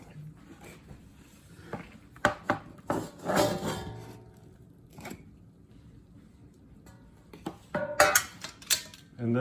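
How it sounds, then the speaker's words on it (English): Metal pan clatter and scraping as a Chicago-style deep dish cheese and sausage pizza is worked loose and lifted out, with scattered clanks and knocks in bursts, a busier cluster midway and sharper hits near the end. "So first I have to remove it from the pan."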